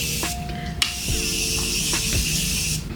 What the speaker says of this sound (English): Morphe Continuous Setting Spray just to help blend everything.